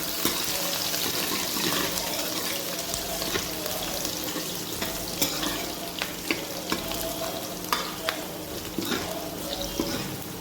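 Garlic frying in a pan until light brown, a steady busy sizzle with recurring sharp clicks and taps of stirring against the pan, no talk.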